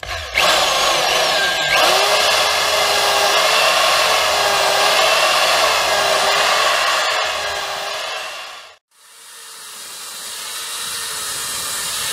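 A die grinder fitted with a small flap wheel ports a cylinder head on an ST170 / SVT engine. The tool gives a loud high-pitched whine with a wavering grinding tone, cuts off briefly near the end, then spins down quieter.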